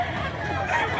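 A fighting rooster crows in one drawn-out, loud call at a cockfighting gathering in Mantalungon, Cebu, over a dense background of crowd noise.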